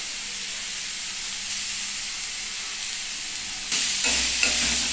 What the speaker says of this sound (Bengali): এবার আমি বাঁধাকপিটাও দিয়ে দিচ্ছি